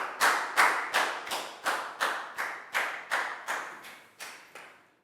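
Pupils in a Year 4 classroom clap for a classmate with about a dozen distinct, evenly spaced loud claps that gradually soften and fade out.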